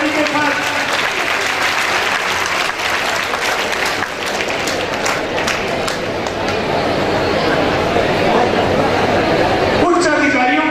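An audience at an award ceremony honouring a police superintendent applauds loudly and steadily throughout, thick clapping with a little crowd murmur underneath.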